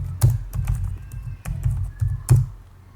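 Someone types a message on a computer keyboard: a near, steady run of crisp key taps with a few heavier strokes, and no voices.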